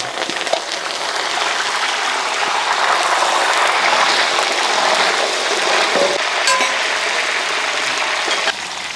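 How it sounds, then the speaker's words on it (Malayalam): Garlic cloves fry in a large batch of hot oil for Kerala-style mango pickle, producing a loud, dense, continuous crackling hiss up close. "ഈ ചൂടായ എണ്ണയിലോട്ട് തന്നെ ഈ വെളുത്തുള്ളി ഒന്ന് ഇട്ടെടുക്കുക"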